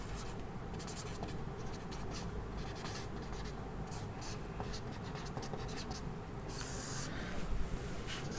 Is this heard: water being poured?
no